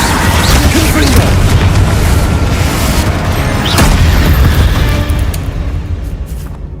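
A Confringo spell explosion in the Hogwarts Legacy video game gives a loud, booming blast that stays dense and sustained for several seconds before it fades, with a voice partly over it.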